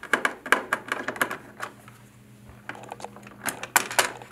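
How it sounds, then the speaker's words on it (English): A screwdriver unscrewing the cover screws on a gateway box, heard as a series of sharp metallic clicks and ticks, close by, with a quieter pause in the middle before the clicking resumes. "Unscrew the screws for the cover."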